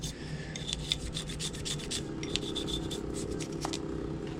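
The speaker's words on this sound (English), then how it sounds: "I'm going to scrub right here really well. Make sure I get all that dirt out of there." Brush scrubbing the slide of a Smith & Wesson M&P 2.0 Compact pistol during cleaning, a steady close raspy back-and-forth rubbing with quick repeated strokes, fairly quiet and with no voices.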